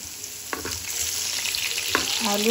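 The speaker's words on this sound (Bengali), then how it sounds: "মাংস ভাজা শেষ করলাম, আলুগুলো ভাজতেছি।" Potato pieces fry in hot oil in a home kitchen pan right after meat, giving a close, steady sizzle with occasional stirring scrapes and clinks.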